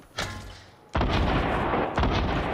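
Sniper rifle shots in a shooter video game, bolt-action alongside a double barrel: a loud, sharp crack followed by a long, rumbling echo tail, then another report about a second later, each close and booming.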